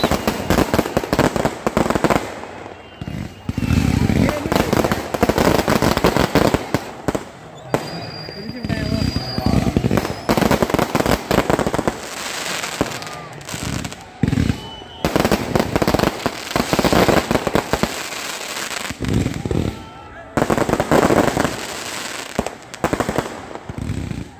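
Multicolour 10×10 tail-light firework shots from LIYA Fireworks fire three at a time in a massive display, a dense, loud barrage of bangs and crackling bursts running almost continuously for about 24 seconds, with brief lulls between volleys.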